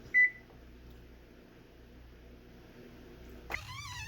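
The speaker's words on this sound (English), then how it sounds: "I'll set the timer for 30 minutes and then we'll check it." A kitchen oven timer gives a single sharp, high beep as it is set during apple crisp baking, then a quiet hum follows until a brief, unrelated sound near the end.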